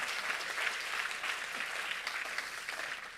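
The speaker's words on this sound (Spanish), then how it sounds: "Y dale un aplauso al Señor." A church congregation claps for the Lord during a sermon, producing a brief, fairly quiet burst of steady applause that carries evenly for a few seconds.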